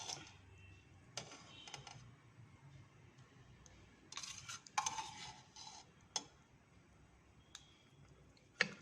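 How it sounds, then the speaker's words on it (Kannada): Salt, onion and grated coconut are mixed with curd in a bowl for a gojju, a quiet, close scraping and stirring with soft taps and a few clinks of a spoon against the bowl. "ಇದನ್ನೆಲ್ಲ ಮಿಕ್ಸ್ ಮಾಡ್ತೀನಿ"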